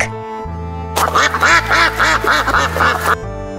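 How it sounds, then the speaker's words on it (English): A duck quacks in a rapid run of loud, close calls over a steady musical backing, lasting a couple of seconds before the music carries on alone. "Duck."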